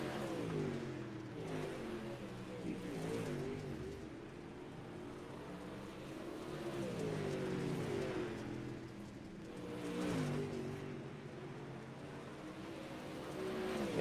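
A dirt modified race car from a touring series round at Lanier National Speedway, in a racing video game, drones and revs continuously, its engine note rising and falling in waves over the whole stretch.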